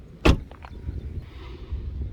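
A Tata Nexon boot lid pops open with a single sharp mechanical clunk, followed by faint quieter clicks and low background hum.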